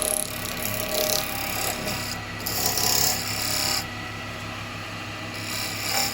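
A bowl gouge cuts a yew bowl spinning on a woodturning lathe, a close, continuous rasping scrape with the lathe's steady hum beneath and slight surges as the cut bites.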